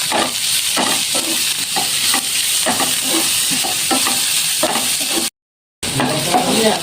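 Salted potatoes frying in a pan, a loud steady sizzle with repeated scraping stirs at a regular pace, close up, cut by a brief silent gap near the end before the sizzle returns.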